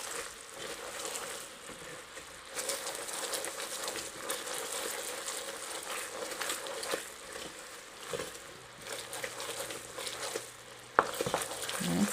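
Sugar mixture for leche flan being stirred in a pot, a soft continuous gritty scraping and swishing with a few louder clinks toward the end, no voices.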